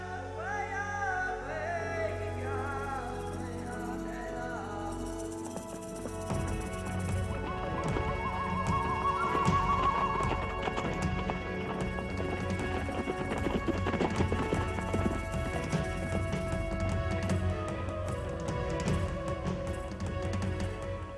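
Hooves clatter in rapid galloping rhythm with scuffles and thuds, and a wild mustang whinnies briefly amid the running herd.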